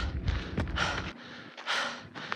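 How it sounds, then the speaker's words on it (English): Heavy, breathy panting in repeated bursts while hiking Mt Sniktau, Colorado, close to the mic, with short gaps between the hard exhalations. "I'm panting pretty hard"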